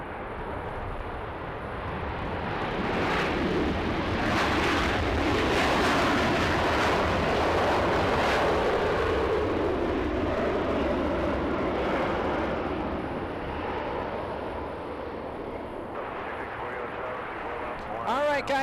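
A Southwest Airlines jet lands in strong, gusty wind at Los Angeles, its broad engine roar swelling and holding steady before easing off, with people talking over the noise.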